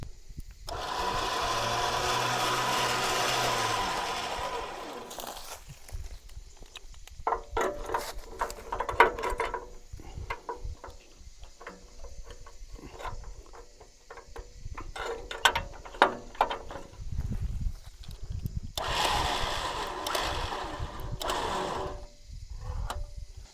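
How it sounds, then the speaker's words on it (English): A winch hooked to the internal part of a vehicle bumper whirs in tightening bursts, an Ultra Winch PDX MK3 12000 lb unit, with motor runs at the start and end and clicking, ratcheting mechanical noises between, close and fairly loud. "I just hooked the winch onto the internal part of the bumper and then just sort of tighten that up"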